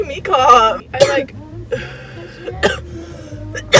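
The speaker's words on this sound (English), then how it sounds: "You're making me cough." A young woman coughs and clears her throat in a few rough bursts between stretches of casual chatter and laughter with a friend, close and fairly loud.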